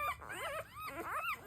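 American Bully puppies whimper in two short, rising and falling whines, close by and fairly soft.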